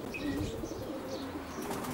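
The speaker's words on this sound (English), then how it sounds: "This is a nice pigeon." A racing pigeon coos softly in a loft, with a faint chirp or two and light rustling, low and continuous over quiet background noise.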